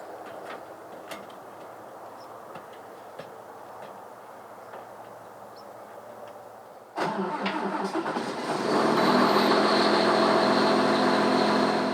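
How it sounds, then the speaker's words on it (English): A Veritron potato harvester runs in the field, heard from the cab: a steady low engine drone that swells sharply partway through into a louder, fuller mechanical roar and holds there. "From the cab, Justin controls this potato harvester like he's piloting a fighter jet plane."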